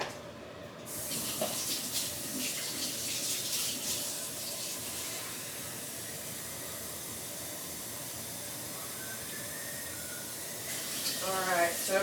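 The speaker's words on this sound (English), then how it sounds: "let's go ahead and get some hot water" Hot water runs from a kitchen tap in a steady, broad hiss that lasts throughout, with a brief changing splash near the end.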